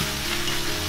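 Radish sizzles in hot oil with shredded ginger in a clay pot, a loud, continuous frying hiss with no pauses, no voices.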